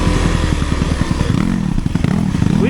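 A Kawasaki KLX 150 dirt bike rides at a steady pace up close, its engine a loud, continuous rapid pulsing drone that rises and falls slightly as the rider works the throttle. Clatter and wind mix in.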